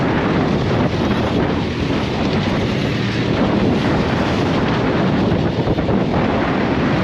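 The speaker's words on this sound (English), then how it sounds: "Wind against current here." Strong wind roars steadily over open sea aboard a solo sailboat with two reefs in, wind against current between Horta and Porto Santo, a constant close buffeting rush with no voices.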